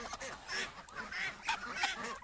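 Mixed poultry, including chickens, geese, Muscovy ducks and guinea fowl, squawk and honk in quick, overlapping bursts close by at feeding time, a noisy, agitated flock calling over and over.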